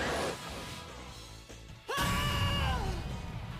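A Street Fighter 6 character lets out a loud, harsh scream with a falling pitch, preceded by a short burst of in-game commotion.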